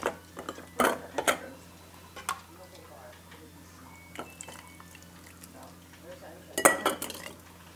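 Glass canning jars clink and clatter in a few sharp bursts as piccalilli relish is jarred for the canner, with a low steady kitchen hum and scattered soft knocks between.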